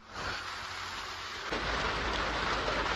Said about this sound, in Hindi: तो गाइस हमें वापस आना पड़ा क्योंकि बहुत ज़्यादा बारिश हो गई है